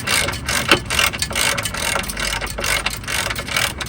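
A ratchet turning long bolts while fitting a replacement steering rack on a Volkswagen Beetle 1.9 TDI, a rapid continuous clicking run up close with a few sharper metallic ticks.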